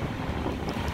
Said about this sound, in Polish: wichura taka, że chyba nic nie usłyszycie